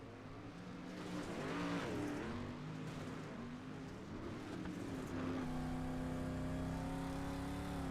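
Dirt street stock race cars battle through a warm-up session at Wild Horse, engines roaring loudly and steadily with revving swells and a tire-skid wash, a sustained engine drone taking over toward the end.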